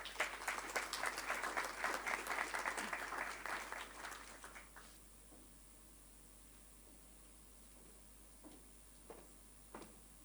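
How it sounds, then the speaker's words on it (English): An audience applauds at a campaign launch event, dense clapping for about four seconds that fades away into quiet room tone with a few faint thumps. "we'd like to ask the audience to give her a round of applause"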